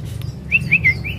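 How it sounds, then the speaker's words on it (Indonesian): Songbirds chirp at a bird market, with several bright, rising and falling calls near the close against low background murmur. "Burung super super semua."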